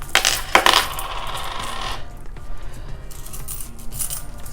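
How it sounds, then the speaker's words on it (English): Loose coins from a savings collection being handled and dropped, a burst of bright metallic clinks and jingles at the start, then quieter shuffling and scattered clinks close by. "So I'm gonna take all of the coins that I have."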